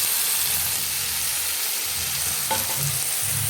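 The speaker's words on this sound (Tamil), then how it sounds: "இதையும் நல்லா ஃப்ரையாக வதக்கிடுவோம்" Onion, tomato and capsicum sautéing in a pan, an even close sizzle and hiss with a few scraping stirs of a spoon across the pan.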